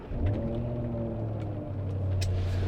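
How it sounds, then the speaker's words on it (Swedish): A Range Rover SV V8 starts up and settles into a low, smooth rumble, fairly quiet and steady for a few seconds with no talking. "Och redan när jag startar bilen så hör jag den mullrande V8."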